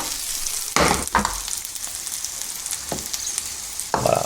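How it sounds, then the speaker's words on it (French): Green asparagus fries in a pan of butter and olive oil with a steady close sizzle, broken by a few louder bursts as the spears are tossed or stirred, with no voices. "on les passe au beurre comme ça jusqu'à obtenir notre cuisson"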